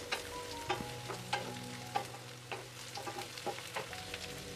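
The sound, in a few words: stirring fried tuna into cooked spice paste in pan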